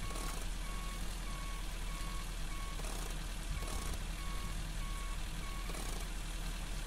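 A huge truck in the Giant Machines 2017 video game idles with a steady low engine drone, while a repeating reversing beep chirps at a regular rhythm.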